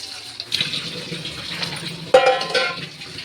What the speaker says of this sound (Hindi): और थोड़ा सा पानी ले लें।